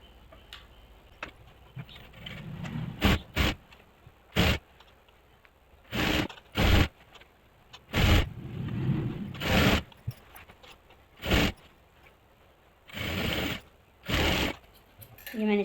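A sewing machine stitches around the round edge of a palazzo in short mechanical bursts of rapid whirring, starting and stopping at uneven intervals, close and fairly quiet, with no talk.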